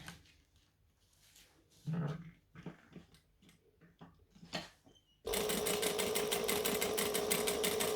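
A sewing machine stitching a backstitch, starting abruptly after quiet handling noises and a brief dog growl, then running as a loud, fast, steady mechanical chatter to the end.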